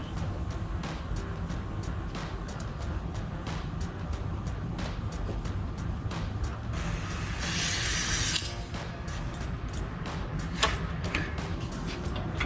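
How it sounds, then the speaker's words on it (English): A grease gun is pumped into the grease fittings of C&L rear lower control arms on a 2005-2014 Mustang. Faint, steady mechanical ticking sits under a constant background hum, with a brief louder hiss near the end. "And now we're going to go ahead and grease these"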